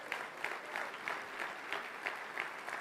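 A church congregation applauds in a steady, rhythmic clapping pattern during a sermon, evenly spaced claps at a moderate distance and fairly quiet, with no speech over it.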